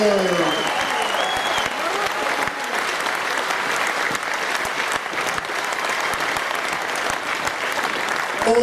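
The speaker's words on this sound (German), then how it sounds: "Und einen großen Applaus für einen tollen Fight für unseren Gast aus der Schweiz, Isariot Gashi." Boxing-event audience applauding after a knockout win, dense loud clapping from a crowd sustained throughout, with an announcer's voice over it.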